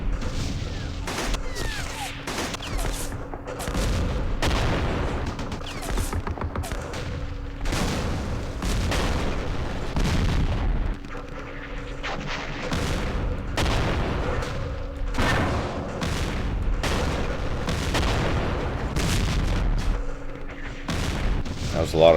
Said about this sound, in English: That was a lot of shots, but not a lot of damage.